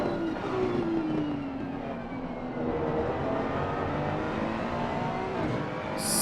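Lamborghini and Ferrari GT race cars howl along the straight at Kyalami in the racing game Assetto Corsa Competizione, engines holding a loud, rising drone with gear changes, the pitch sliding as they pull away.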